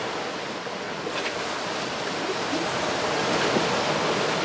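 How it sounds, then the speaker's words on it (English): Open-ocean waves wash and rush around a sailing yacht on an Atlantic crossing, a steady broadband surge with wind noise that swells slightly toward the end, no voices. "We have got the waves helping."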